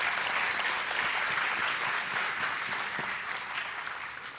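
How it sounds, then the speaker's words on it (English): Steady applause from a sizable crowd at a national quiz competition grand finale, continuous clapping that holds at an even level for several seconds before easing slightly at the end. "So round of applause for all of you"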